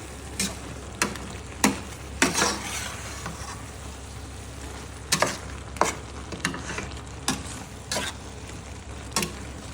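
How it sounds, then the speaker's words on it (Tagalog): Coconut milk goes into a pot of simmering string beans and squash, giving a soft steady bubbling hiss broken by irregular sharp clicks and taps of stirring, quiet and close. "ilagay na din po natin itong iniwan natin kaninang kalahating gata"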